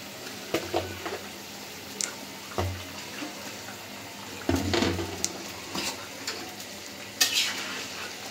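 Okra and koi fish go into a boiling curry in a village kitchen, giving intermittent splashes, stirring clatter and soft bubbling close by, with no one talking.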